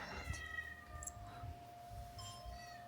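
A cat meows faintly, a few short calls over quiet background hum.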